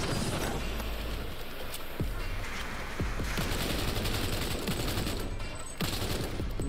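Gunfire from a gun in Cyberpunk 2077 Phantom Liberty: a dense, continuous barrage of close, loud shots runs through the whole stretch, with a few sharper cracks standing out.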